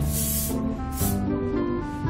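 Aerosol hair spray is sprayed onto styled hair in two short, close hissing bursts, the first longer than the second, over a steady musical background.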